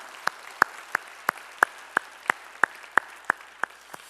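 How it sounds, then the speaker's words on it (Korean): Church congregation applause during a worship service comes across as a steady, evenly spaced run of about a dozen crisp claps, moderately loud with nothing else heard. "우리 찬양을 받으실 주님께 영광의 박수 올리겠습니다"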